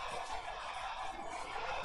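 Chicken-like gobbling and clucking from a dinosaur video game in which dinos attack thousands of chickens, a dense, steady flock sound with no pauses and no talking.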